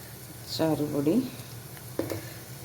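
Turmeric and pickle powder hit hot oil for a carrot and bitter gourd pickle, giving a brief soft sizzle and a stirring scrape, with a voice briefly heard over the quiet pan.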